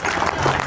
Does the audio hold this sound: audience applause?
yes